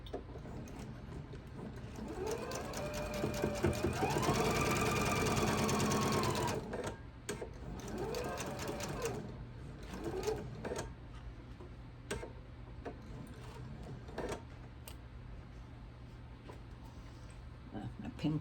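A sewing machine runs a scant quarter-inch seam across a pinned quilt block edge, its rapid ticking needle loud and steady at first, then slower, stop-start stitching with a person talking over it.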